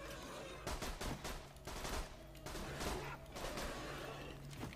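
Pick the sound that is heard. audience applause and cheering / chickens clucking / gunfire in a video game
gunfire in a video game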